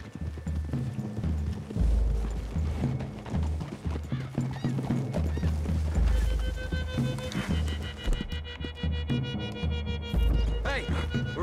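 Horse hooves clip-clop steadily and rhythmically in Red Dead Redemption 2, close and fairly loud, with a whinny and game music underneath.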